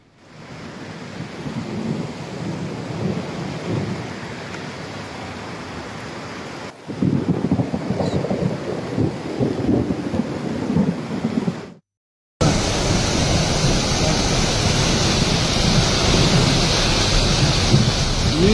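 Heavy rain pours in Savadatti, Belagavi, during a thunderstorm that leaves roads flooded like rivers. A dense, loud, continuous roar of rainfall carries on throughout, with a brief cut partway through.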